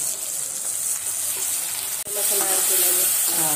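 Ground wet masala roasts in a pan for masale bhat, giving a loud, close hiss of frying with a sharp clink partway through.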